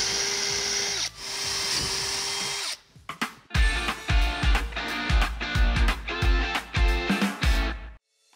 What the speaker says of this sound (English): just work your way around the tub, drilling each one of those locations you just marked.